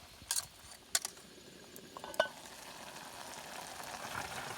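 Fiddlehead fern stir-fries in a pan outdoors at a rice farm, giving a steady soft sizzle with a few sharp clinks of a utensil scraping and stirring.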